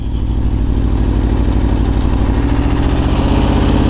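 A sportbike's engine runs steadily and loudly as the rider eases out the clutch to pull away, a dense mid-frequency drone with a faint rhythmic clatter and slight rise toward the end.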